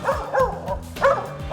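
Hunting dog treeing a squirrel, giving several loud, close bow-wow barks in a quick uneven rhythm, each bark with a rising yelping edge.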